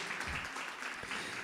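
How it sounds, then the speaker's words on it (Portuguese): A church congregation applauds in a dense, even wash of clapping that sounds somewhat distant and fairly faint, with no break through the short stretch. "Aplauda mais uma vez ao nosso Senhor Jesus."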